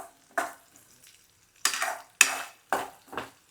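Ginger chutney ingredients, including tamarind, are tossed and stirred in a pan while they fry, giving five separate bursts of scraping and sizzling with quiet gaps between them, close and fairly faint.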